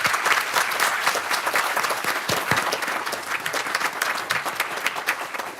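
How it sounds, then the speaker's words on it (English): A village board meeting audience gives a sustained round of applause for police department members, many hands clapping in a dense crackle that thins slightly toward the end, with faint crowd murmur beneath. "I would like a round of applause for our current members as well"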